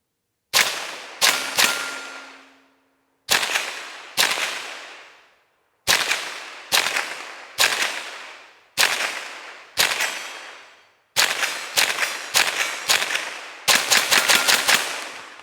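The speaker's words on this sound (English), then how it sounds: "let's see what these velocitors will do" CCI Velocitor .22 LR rounds fired from a Tippmann Arms M4 rifle: a string of sharp, loud cracks, first spaced out singly, then quicker rapid shots near the end, each with a short ringing decay and no talk.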